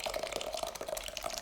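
Curdled milk for homemade ricotta being poured from a pot, a soft continuous watery splash and trickle, close and fairly quiet, with no talking.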